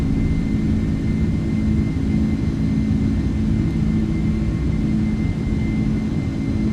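In a flight simulator, the jet engines of a Boeing 747 roar steadily and loudly as it rolls down the runway for takeoff, a dense, unbroken rumble with no voices.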